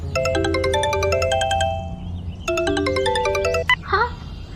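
A phone ringtone for an incoming call plays close by as a bright, repeating electronic melody in two bursts separated by a short pause, ending in a few chirpy tones, with no voices over it.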